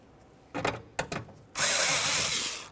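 A cordless power drill or driver runs in two short bursts, then in one longer sustained whir, starting mounting bolts on a window regulator inside the door of a 2001-2005 Ford Explorer Sport Trac. Close and fairly loud, with no talk.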